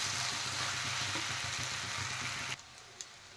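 Drumsticks frying with spices in a pan while being stirred, a dense steady sizzle with scraping underneath that suddenly drops off near the end, leaving a quieter hiss and a couple of light knocks.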